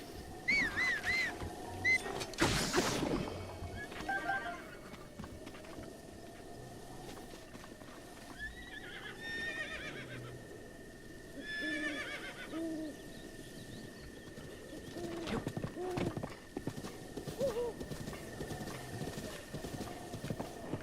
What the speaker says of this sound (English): And that's how you mount a horse at speed.